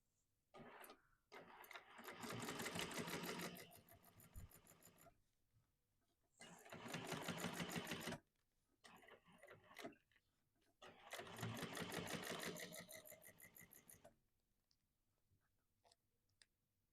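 Sewing machine stitching a seam on a sling bag, running in three long bursts of steady rapid stitching separated by short pauses, close and fairly loud.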